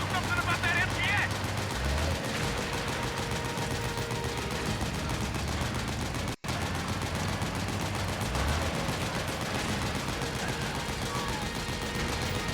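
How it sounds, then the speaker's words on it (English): Dense combat in the video game Metal Gear Solid 4: rapid machine-gun bursts and heavy explosions rattle continuously, with a momentary drop to silence midway. "Gunfire, machine guns, explosions everywhere."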